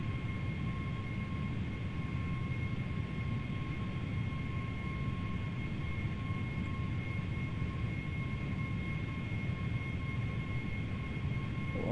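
Steady, even drone of Boeing 757 engines on a landing approach in the flight simulator FSX, with the throttle eased back slightly; a continuous hum with faint tonal whine and no speech.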